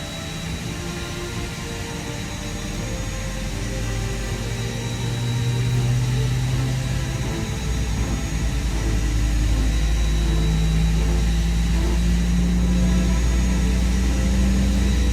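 Jet engine on an Airbus A320 spooling up during start-up in the X-Plane flight simulator, heard in a cockpit after pushback: a steady low roar with rising tonal whine that swells gradually and holds loud throughout.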